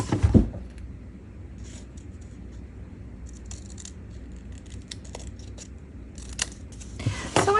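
Scissors snip through folded paper in a quiet room, with a sharp cut at the start, light intermittent rustles and clicks in the middle, and a burst of crisp cutting and paper handling at the end.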